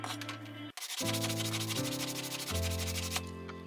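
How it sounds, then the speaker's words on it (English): Rhythmic rubbing strokes deburr a freshly drilled hole in a metal strip, a close, scratchy, tonal grinding repeated in several short bursts with brief pauses between them. "After drilling, be sure to remove the burrs."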